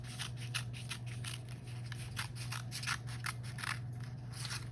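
Scissors snip steadily through paper in a quick, even run of close crisp cuts, with a low steady hum underneath.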